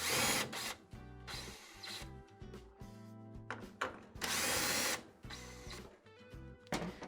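A power driver whines in repeated bursts, removing the mounting screws from a GE washer's triple water valve, several separate runs and pauses, close and loud with no talk.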